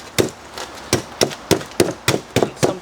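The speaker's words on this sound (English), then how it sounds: "old school, just chisel it away." Steady chisel strikes gouging out a pumpkin to form a bonsai container, with about eight evenly spaced, close, crisp knocks and no talking.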